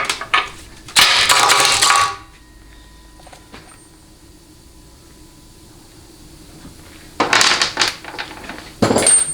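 A socket wrench with a 1-inch socket works loose the neutral safety switch on a Chrysler A904 transmission during teardown, with two bursts of rapid ratcheting clicks close by, separated by a quieter pause with faint metallic taps.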